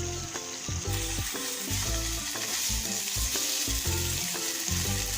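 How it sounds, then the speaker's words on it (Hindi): Tomato pizza sauce simmers and sizzles steadily in a pan while being cooked down until thick, a constant bubbling hiss running under rhythmic background music. "गाढ़ा होने तक पकाऊंगी, जब तक ये गाढ़ा होता है 5 से 6 मिनट तक ये गाढ़ा हो जाएगा।"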